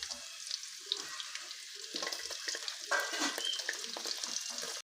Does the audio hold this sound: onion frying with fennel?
yes